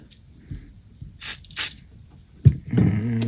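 Cleaner sprayed into a control of a 1953 Crosley D25 antique radio, two short sharp hissing bursts close up, followed by a clunk and some mechanical rattling.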